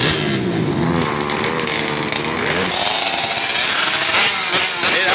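A race vehicle's engine running on German racing fuel at a drag racing meet, revving hard and continuously at close range, its pitch climbing and falling through loud sustained bursts.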